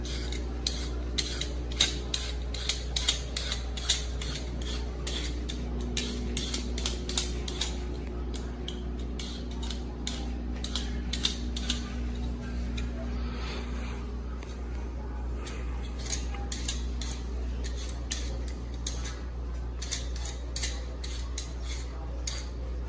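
Potatoes being peeled by hand with a peeler or knife in a kitchen, a long run of quick, sharp scraping clicks at an irregular rhythm over a steady low hum.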